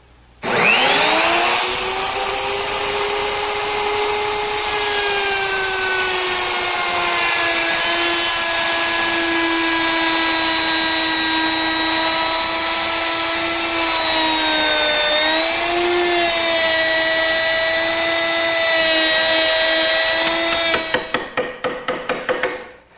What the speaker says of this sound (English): I use my router with a 3/8-inch rabbeting bit. And I'll just plunge in and go around.